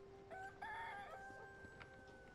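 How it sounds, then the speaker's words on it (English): A chicken in The Elder Scrolls Online gives a short crow with a few clucks, faint and close against quiet game ambience, with no talk. "There's a chicken."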